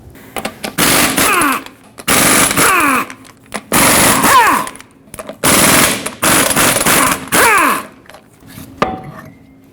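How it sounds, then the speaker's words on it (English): An impact wrench rattles lug nuts off a Ford F-350 wheel through a 21mm socket, loud and close, in repeated bursts of one to two seconds separated by short pauses. "use a 21mm socket and remove all 8 lug nuts that hold the wheel on"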